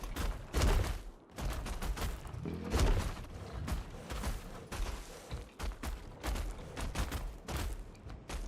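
A gun fires repeatedly at a Gigantoraptor in ARK: Survival Ascended, with sharp, loud shots in an irregular series, some with heavy thudding low-end punch, separated by brief quieter gaps.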